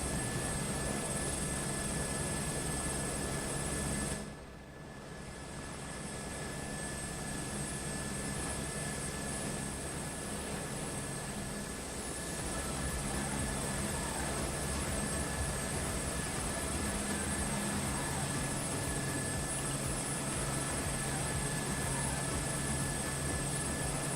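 A helicopter in Microsoft Flight Simulator 2024 sends out a steady, loud rotor and turbine drone, with a brief dip in level around the fourth second before the constant whine resumes, and no voices.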